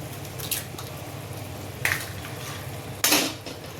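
Eggs for bhurji mixed in a pan, with a few distinct metal spatula scrapes and clinks against the pan over a low background sizzle, close and without speech.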